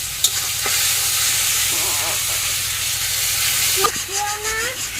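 Onion, cashews, bay leaf and a dried chilli fry in hot oil with a loud, steady sizzle and hiss, broken by occasional stirring scrapes; a voice briefly sounds near the end.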